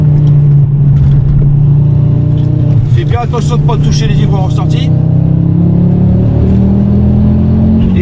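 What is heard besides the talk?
Ford Focus RS engine accelerating on Le Mans circuit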